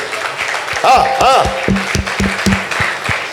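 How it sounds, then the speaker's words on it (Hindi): A church congregation at a retreat convention in Ludhiana claps loudly for Jesus, rhythmic hand claps in a steady beat alongside amplified voices and a short musical tone. "जोर से ताली बजाए प्रभु यीशु के लिए"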